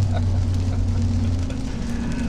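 A 2019 Ram 1500 pickup with its wheels spinning on wet pavement, heard as a steady hissing spray and low engine drone that eases off after a moment. Someone speaks briefly over it.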